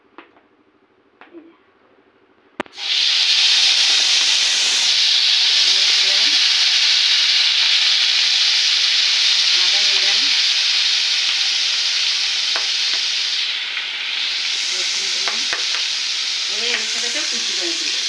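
After a couple of quiet clanks, spices hit hot oil with prawns and burst into a loud, steady sizzling hiss that carries on close-up, with faint stirring scrapes now and then.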